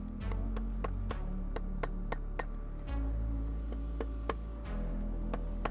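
Hammer blows on a hot chain link during a forge weld, a steady run of sharp metallic strikes ringing out over a low roar of the forge, with several more taps following a brief pause.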